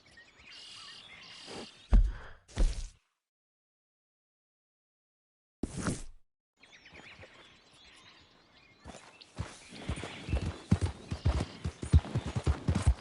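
Horse hooves clip-clop in the video game Red Dead Redemption 2, in chapter 6 at Beaver Hollow. The rhythmic, fairly close hoofbeats drop out for a few seconds of silence, then return quicker and louder, with faint insect and bird ambience behind them.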